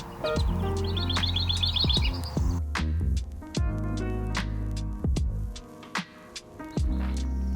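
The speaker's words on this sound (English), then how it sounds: "I had a northern house wren chorus all around me." Northern house wrens sing all around in a chorus near feeders by a wooded area along the South Platte River, with bright overlapping chirps and trills repeating steadily over a constant low hum.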